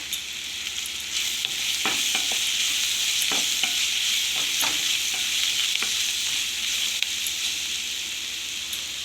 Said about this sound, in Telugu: ఉల్లిపాయలు బాగా ఫ్రై అయ్యాయండి. ఇప్పుడు పసుపు కూడా వేసుకుందామండి.